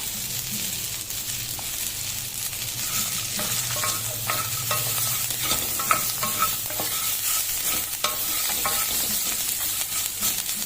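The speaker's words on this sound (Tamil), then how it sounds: "இப்போ இந்த தேங்காயையும் போட்டு ஒரு கிளறிடலாம்" Grated coconut is stirred into fried balloon vine greens in a pan, with a steady soft sizzle under frequent small scraping and tapping strokes of a spatula, close and continuous.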